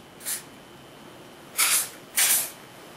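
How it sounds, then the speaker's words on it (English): Three short hissing bursts from a hair spray bottle, a faint quick one followed by two longer, louder ones, close by in a quiet room. "So first, I'm just going to spray my hair."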